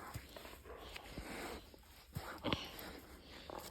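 A big, young dog on a farm makes faint, soft vocal and movement sounds amid a noisy outdoor background, with scattered clicks and scuffs close by.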